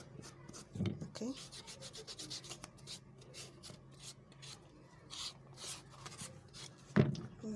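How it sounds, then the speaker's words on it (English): A leather insole being smoothed by hand, rubbed or sanded with steady, close rasping strokes in a quiet room, with a single sharper scrape near the end. "Let me smoothen this other side too."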